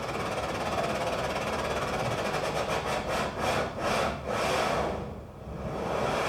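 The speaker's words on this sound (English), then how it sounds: "So if I go high, you get this really attacking pattern." A synthesizer sound with its filter swept back and forth at a high modulation rate gives a fast, pulsing, attacking pattern of rhythmic whooshing sweeps, loud and alone, thinning out near the end.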